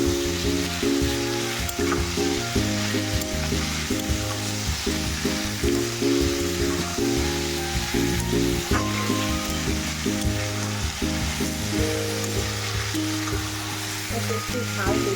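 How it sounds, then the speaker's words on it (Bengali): Taro fries in a pan with salt and turmeric, giving a continuous close sizzle with stirring noises, while a voice talks over it at times. "এতে ভাজা ভাজা হবে।"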